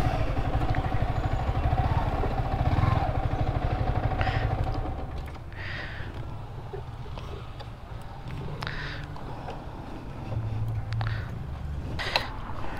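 Yamaha motorcycle being parked among many other bikes in a sunny lot, its engine running with a steady low rumble that eases off partway through, followed by light mechanical clatter and a few thumps.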